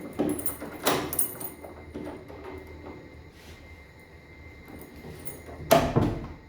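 A house door is being opened after its lock cylinder was replaced. A few sharp metallic clicks come early, then softer handling noises, and a loud clunk of the door near the end.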